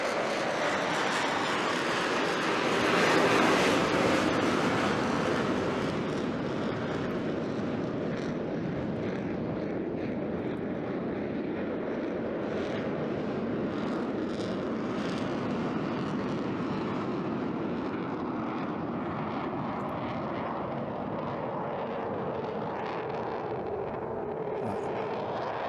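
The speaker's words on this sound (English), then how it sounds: "Very shortly now, he's going to push the throttles. There we go. Back into full reheat." Jet aircraft engines at full reheat during an air display, a loud sustained roar that swells early and then holds as a broad rumbling rush heard from a distance outdoors.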